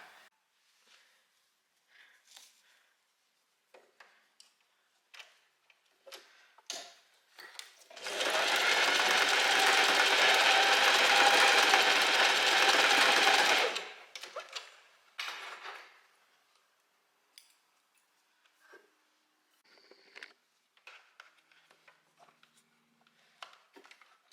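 A sewing machine stitches a dress seam in one steady burst of about six seconds, with light clicks and handling noises before and after.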